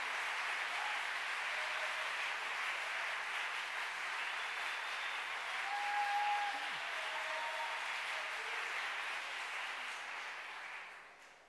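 Studio audience applauding together on cue for a measured test, a steady sustained wash of clapping that holds for about ten seconds before tapering off.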